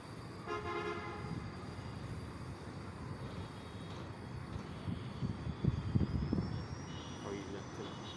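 A metro train passing in Bangalore, seen from a rooftop: a distant rumble under a high horn-like tone, with people talking nearby over the traffic noise.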